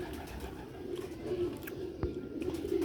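Pigeon cooing from a Sialkoti Ali-wale pigeon pair, soft low repeated coos running through steady ambient noise with a faint brief click near the middle.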